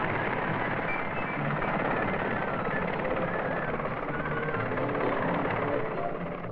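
A Westland Whirlwind helicopter drones steadily and loudly throughout, a dense continuous rotor and engine roar with no breaks, recorded with a muffled, band-limited quality.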